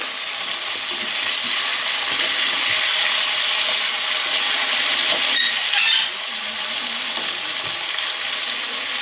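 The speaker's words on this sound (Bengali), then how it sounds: "এরকম বেশি ভাজবো না বেশি ভাজলে শক্ত হয়ে যায়" Onions fry in a pan with a steady, close sizzle, plus a few brief stirring scrapes partway through and no talking.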